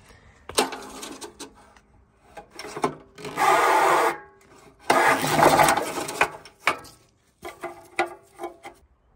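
A Wacker plate compactor's engine is pull-started after a wiring repair, with several short mechanical bursts and two longer loud roaring spells as it catches and dies, close up with rattles between attempts.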